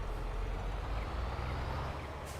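A John Deere 8R tractor engine in Farming Simulator 22 gives a steady, deep, continuous drone that stays close and fairly loud with no variation across the short stretch, and no voices over it.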